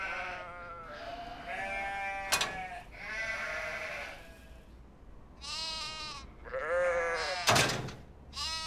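Sheep bleating on a farm, several wavering bleats from more than one animal, some near and loud, others softer, with a couple of sharp knocks in between and no talk.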